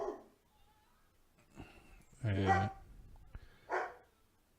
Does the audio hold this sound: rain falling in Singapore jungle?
no